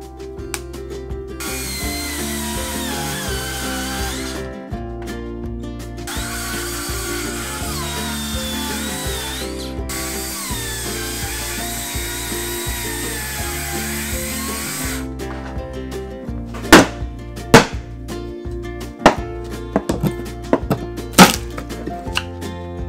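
Power tool whirring in long bursts, followed by a series of sharp chopping and knocking impacts on a wooden stud wall being cut to change a window opening, close and loud.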